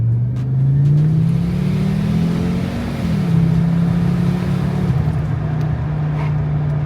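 A five-cylinder turbocharged Audi S6 C4 quattro revs and accelerates up close, its engine note climbing, dipping briefly near the middle, then holding a steady loud drone.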